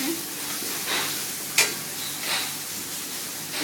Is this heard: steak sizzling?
yes